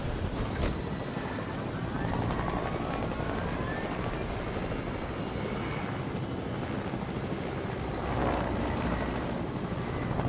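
An in-game helicopter in Fortnite Chapter 2 drones with a loud, continuous rotor roar that swells slightly near the end.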